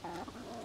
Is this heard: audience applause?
no